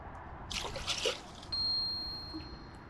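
A zander released back into the water, a short splash and trickling slosh close by, followed by a faint steady high electronic tone and quiet ambience.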